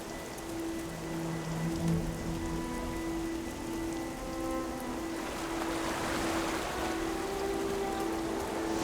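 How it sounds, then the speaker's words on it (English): A waterfall rushing in the Gothic Remake video game, a steady broad hiss of falling water that swells slightly toward the end, under faint tonal game music. "It could really just be that waterfall."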